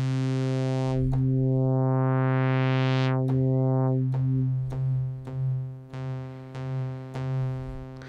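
A Dave Smith Pro 2 synthesizer holds a buzzy sustained tone while its envelope sweeps the filter up and back down. Sharp retriggered bumps and wobbling swells follow, and the sound stays steady and close with no voices.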